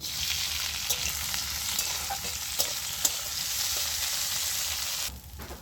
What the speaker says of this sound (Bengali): তেলটা গরম হয়ে গেছে, এর মধ্যে আমি চিংড়ি মাছটা দিয়ে দিচ্ছি।